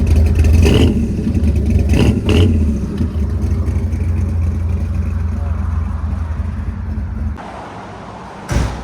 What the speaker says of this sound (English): Rev it a few more times.